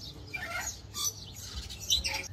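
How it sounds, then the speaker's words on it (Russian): A small bird chirps in the Sri Lankan mountains, giving several close, bright, brief calls against a soft outdoor background with no speech. "Так, ну птичка здесь вообще зачетная."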